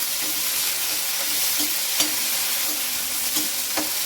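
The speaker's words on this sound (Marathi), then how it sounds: "कोथिंबीर पण छान अशी फोडणीमध्ये परतून घ्यायची." Coriander and curry leaves sauté in a hot oil tempering for spicy rice, making a constant close sizzle punctuated by a few light scrapes of a spoon stirring the pan.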